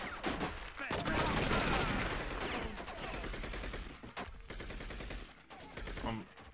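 Rapid bursts of video game gunfire in True Crime New York, loud and dense, with automatic-sounding volleys rattling through most of the stretch and a voice speaking over parts of it.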